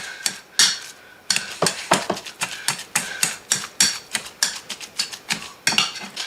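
Meatball mixture of hamburger, pork and red peppers being worked by hand produces a steady series of wet, squishy slaps and clicks, close and fairly loud, repeating in an uneven rhythm with no talking.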